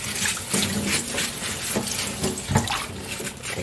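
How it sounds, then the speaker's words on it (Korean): Sweet corn is rinsed under a running kitchen tap, steady splashing water close by with small shifts as the cob is handled, and no one speaking. "씻었을 때는 그냥 이렇게 해서 흐르는 물에 씻어주면 됩니다"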